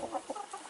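A backyard chicken gives soft, short clucks in a quick run of four or five, close but fairly quiet, with no talk.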